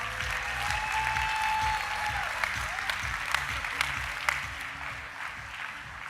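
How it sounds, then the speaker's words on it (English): Audience at a general session conference applauding award recipients, a sustained, even roar of clapping with a few sharper individual claps standing out. "Another round of applause for our recipients today"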